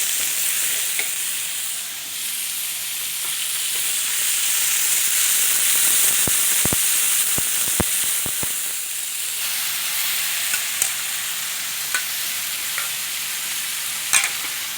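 Minced pork for Thai basil stir-fry sizzles loudly and steadily in a hot pan, with a spatula scraping and clacking in quick bursts partway through before the hiss settles back.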